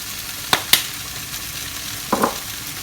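Okra curry paste sizzles and bubbles in a hot pan, with a steady frying hiss broken by a few sharp clinks and scrapes of stirring, close and fairly loud with no talk.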